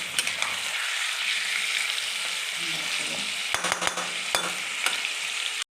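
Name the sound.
stirring and frying chicken in oil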